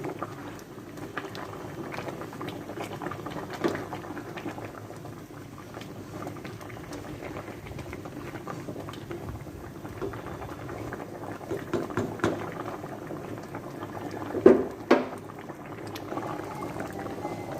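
Taro leaves boil steadily in a pot on the stove, a soft continuous bubbling and simmer with occasional louder pops, no talk.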